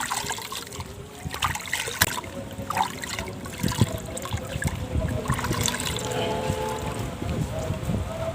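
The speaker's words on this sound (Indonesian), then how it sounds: "kita ucek-ucek lagi, kita peras dalam sini" Hands squeezing and rubbing material in water while making a microbial soil-fertiliser solution, giving continuous wet sloshing and dribbling close by, with a voice talking over it.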